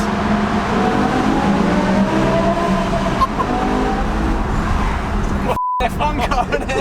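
A BMW M6 with its V10 engine revs hard, a loud, sustained roar with rising and falling pitch and a brief cut near the end, with people talking over it.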